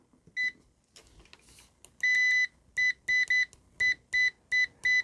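Continuity-test beeps from a ZOYI ZT-1000R insulation tester whose leads touch and lose contact: a quick series of short, bright electronic tones, mostly choppy, one held a little longer, loud and close with no talking.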